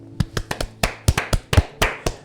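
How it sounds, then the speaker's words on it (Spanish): Church congregation clapping in a short rhythmic burst, a dozen or so distinct sharp claps in an uneven beat, close and fairly loud, with no voices. "Vamos a dar un aplauso al Señor."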